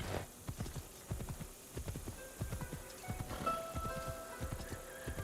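Horse hooves in Assassin's Creed Shadows ridden through a town, an even, rhythmic clip-clop of a non-sprinting gait, moderately close and unbroken, with no talking.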